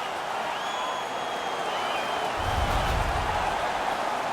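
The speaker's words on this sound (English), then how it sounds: "Their man's won the fight. The crowd is ecstatic." An ecstatic hockey arena crowd in NHL 19 roars steadily after a fight is won, a broad wash of cheering that swells slightly louder midway, with no talk over it.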